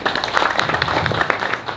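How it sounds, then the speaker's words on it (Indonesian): A gathering applauds five people who asked questions at a village meeting in Mirit, Kebumen, with scattered, uneven claps from a modest crowd. The clapping is moderately loud and slightly irregular, and some faint voices mix in. "Ada 5 penanya, tepuk tangan buat semuanya."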